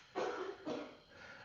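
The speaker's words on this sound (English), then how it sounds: "They can hear you cough." Two quick, fairly close coughs from a person during a Sunday night live stream, separated by a short pause, with nothing else heard.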